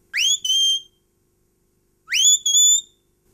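A shepherd's whistle command telling a Border Collie sheepdog to go right, out in the Scottish Borders: a loud, piercing two-part whistle that rises then holds level. The same phrase sounds twice with a short silence between, clear and without talk.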